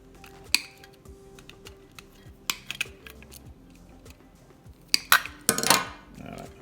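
Ceiling fan pull chain switch wires being snipped, a few sharp isolated clicks and snaps spread over several seconds, near and fairly quiet, with faint handling noise between cuts.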